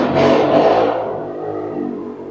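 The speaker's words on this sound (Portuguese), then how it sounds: "Se vocês ouvirem barulho de carro, moto aí no fundo, é porque é Ano Novo" A car or motorbike revs loudly and close by on a street during New Year's, the engine roar surging, then easing off and droning.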